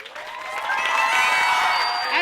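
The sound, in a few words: audience applause and cheering at award ceremony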